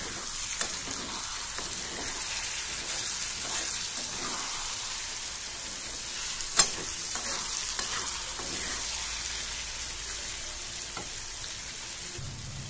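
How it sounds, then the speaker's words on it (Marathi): Masala okra fries in a pan while it is stirred, giving a steady close hiss of sizzling oil with scattered scraping taps and clicks. "आणि भाजी चांगली खालून वर अशी हलवून घ्यायची."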